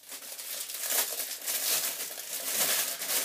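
Plastic packaging on a Santa Claus-shaped candle crinkles and crackles close up, in continuous rustling bursts of unwrapping with no talk.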